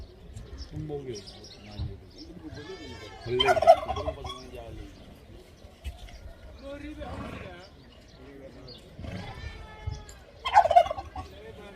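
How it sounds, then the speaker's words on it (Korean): Turkeys gobble in rapid rattling bursts at an outdoor spot in Africa, with two loud calls standing out among quieter clucks while people chat nearby. "칠면조 소리 처음 들어보네"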